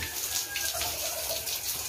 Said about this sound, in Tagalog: Ayan, dadaloy lang yung tubig.